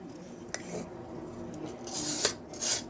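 Aloe vera gel scraped against the side of a metal bowl, a few rasping, gritty strokes up close with a couple of sharp metallic scrapes.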